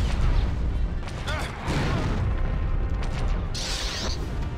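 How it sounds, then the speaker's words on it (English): Explosions and booming blasts from the Star Wars: The Force Unleashed video game, a dense, loud run of impacts and rumbling bursts with gunfire-like cracks, mixed with game effects and a voice talking over it. "Explosions!"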